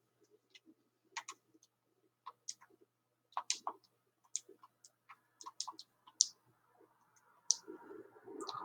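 Fingers tap out numbers on a calculator keypad, giving a quiet, irregular run of light clicks and ticks with short pauses between entries and some faint rustling near the end.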